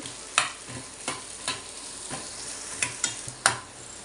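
Onion sautéing in oil until golden, with a steady broadband sizzle broken by repeated sharp scraping stirs of a spoon against the pan at an irregular rhythm, close and moderately loud, no talking.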